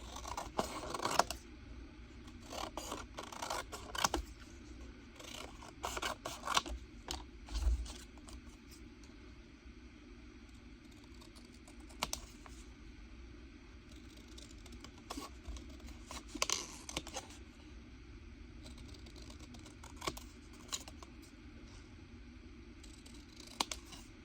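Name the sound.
scissors roughly cutting out stamped images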